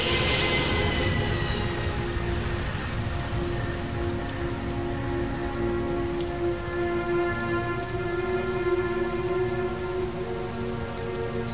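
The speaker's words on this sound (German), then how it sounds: "Hier stehen wir also mitten im Regen." Steady heavy rain patters continuously in the game Heavy Rain, a dense, even hiss of falling drops with a faint low rumble beneath, heard alone without any voices.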